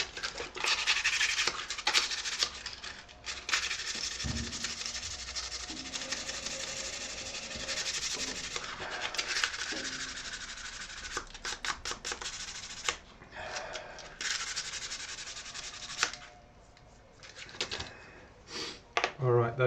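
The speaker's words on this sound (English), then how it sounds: "Sand this baby." A guitar body is sanded by hand in a workshop, with rough scratchy strokes in bursts and pauses, close, and someone speaks between passes.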